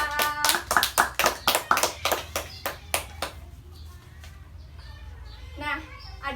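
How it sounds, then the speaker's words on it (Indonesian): Schoolchildren in a classroom clap for a classmate in quick, rhythmic, sharp claps for about three seconds, then the clapping stops and children's voices talk faintly. "Tepuk tangan untuk Faisal."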